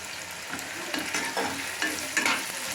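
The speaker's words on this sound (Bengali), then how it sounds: "তো আমার এখানে পেঁয়াজটা ভাজতে দিয়ে দিয়েছি" Onions frying in oil for a boal fish curry give a steady, close sizzle, broken by several scraping stirs of a spoon in the pan.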